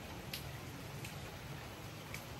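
Soft steady hiss of rain falling on Olango Island in bad weather, a faint continuous patter with a few small drips standing out, no voices.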